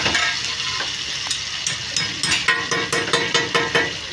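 Loud, steady sizzling of chicken frying at a street kebab stall, with a regular series of scraping clicks layered on top.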